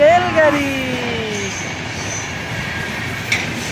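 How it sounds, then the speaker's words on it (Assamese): A train passes near a station, its horn sliding down in pitch over a steady rumble of rolling wagons, close and fairly loud, with a voice briefly audible at the start. "জক জক ৰেলগাড়ী গুচি গ'ল"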